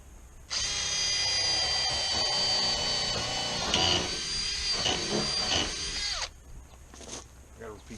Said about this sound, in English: I just got to take and drill some holes now